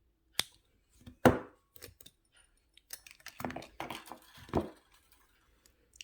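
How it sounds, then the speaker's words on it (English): Fine jewellery weaving wire is snipped at both ends with cutters during a wire-wrapped moon pendant build, giving a few sharp close clicks among quieter handling sounds. "cut your weaving wire at both ends"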